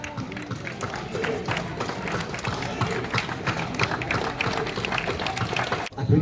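An audience at an outdoor summer historical reenactment show applauds. Steady, dense clapping carries on throughout, with a brief break near the end.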